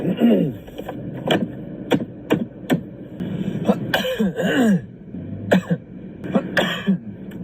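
Several sharp coughs and throat clearings from a person with a lingering cold, close and loud, spread out with short pauses between them.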